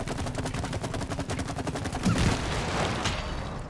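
Rapid gunfire in the co-op video game It Takes Two, a fast, regular burst of shots followed by a heavier blast and rumbling that fades out.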